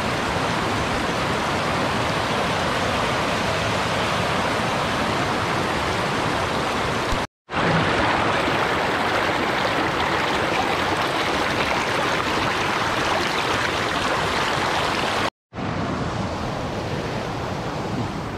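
Broadband rushing of river water flowing along a bank at a rural riverside with a stone embankment, steady and close with no talk, cut by two brief dropouts.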